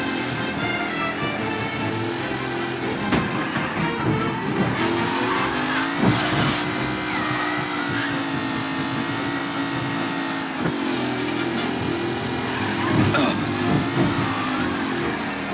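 Race cars roar around a track during a race in the video game Mafia Definitive Edition, with steady, loud engine drones that rise and fall in pitch as several cars jostle close together.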